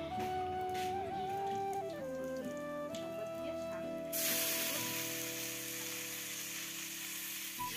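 Pakoras made from bhadli leaves fry in hot oil. A bright, continuous sizzle swells in midway and holds steady, with tonal music playing over the first half.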